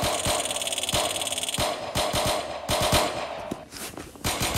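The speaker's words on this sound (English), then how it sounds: "it's kind of really annoying to hear just gunshots everywhere" Rapid bursts of automatic gunfire and scattered single shots in the Roblox game Jailbreak, loud and sharp, with brief gaps between volleys.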